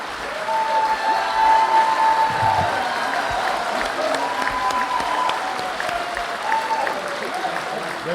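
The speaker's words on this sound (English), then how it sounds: "So Rick got a bigger applause line than I got." A convention audience at a Harris County Democratic Party gathering applauds a speaker, a steady sustained wash of clapping with some crowd murmur that holds at even loudness for several seconds.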